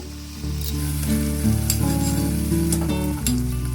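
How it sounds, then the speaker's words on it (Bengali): Loud, continuous sizzling as a cauliflower mixture hits hot spices in a pan for a vegetarian cauliflower roast, with stirring and scraping sounds layered over a low cooking hum. "এবার এই ফুলকপির মিশ্রণটা আমি কড়াতে দিয়ে দেব।"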